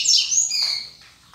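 A female rusty-collared seedeater, or coleiro, kept in a breeding setup gives a bright, close high chirp that slides and fades, followed by a couple of softer short calls.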